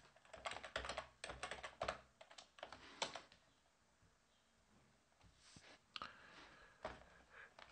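Typing on a computer keyboard, a quick run of loud, close clicking keystrokes in bursts, then a pause and a few scattered later taps, with no voices.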